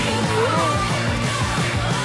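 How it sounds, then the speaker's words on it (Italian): A loud, sustained crowd-like yell fills the clip from start to end, dense and constant, during a blindfolded football penalty challenge. "Un bel urlo!"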